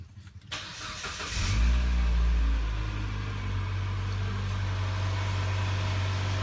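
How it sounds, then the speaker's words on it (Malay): A Mitsubishi Lancer GT engine cranks and catches, then settles into a steady low idle hum as it warms up after an oil change, close by and continuous. "Bagi enjin running sampai air ideal."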